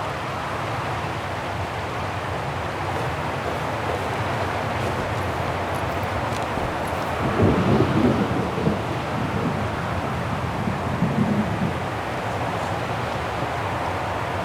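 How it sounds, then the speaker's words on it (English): Stormy weather in the video game Syberia: The World Before, at the Vaghen Mountains Silberspiegel Refuge: a steady roar of wind and rain with a low rumbling swell near the middle, continuous and fairly loud, with no talking. "Are you sure you want to stay under the storm to see the bodies, Kate Walker?"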